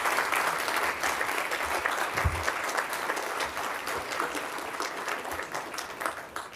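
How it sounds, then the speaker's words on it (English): Steady applause from a crowd at an economic development launch event in Greenville fills the whole stretch, a dense, even patter of clapping without a break. "let's give him a warm round of applause."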